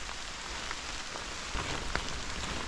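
Rain patters steadily on a forest floor and leaves during a late-May mushroom hunt, a continuous soft hiss with a few sharper nearby drops standing out.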